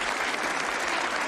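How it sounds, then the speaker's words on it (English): A dense burst of audience clapping at a hometown welcome ceremony, loud and sustained, a full crowd applauding without a break. "Let's give Louise a nice, warm round of applause."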